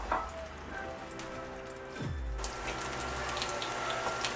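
Diced jalapenos hitting hot olive oil in a frying pan, a loud burst of sizzling that jumps up midway and holds as a steady crackle, with a brief low thump just before the sizzle rises.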